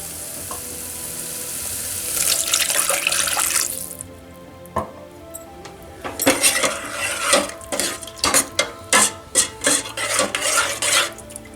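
Water is poured into a pan of cooking tomato, onion and garlic for sambar, a hiss and rush of liquid followed by a run of metal spoon scrapes and clinks as the mixture is stirred.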